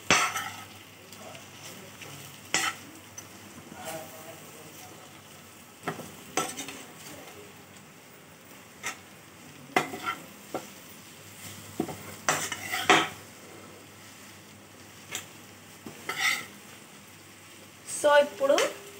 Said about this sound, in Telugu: ఇలా కింద నుంచి పైకి మసాలా బాగా అంటుకునేలా చపాతీనంతా కలిపేసుకుందాం.